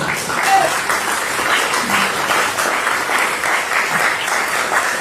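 Church congregation clapping steadily in praise during a Spanish-language service, a dense, continuous round of applause filling the room with no speech over it.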